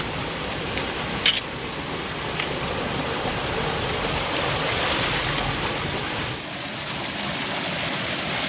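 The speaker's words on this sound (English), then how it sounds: "Well, it's still raining, but it makes it very pretty." Steady rain falls outdoors near a road, a continuous broadband hiss of water that stays fairly even throughout, with no talking.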